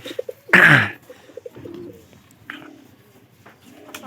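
Pigeons coo softly and close by in low, repeated calls, with a sudden loud rustle or flutter near the start and some faint background noises.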